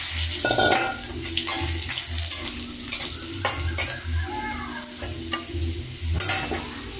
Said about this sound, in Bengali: তেজপাতা আর এই যে জিরে। দিয়ে এখন আবার আলুগুলো দিয়ে দিচ্ছি।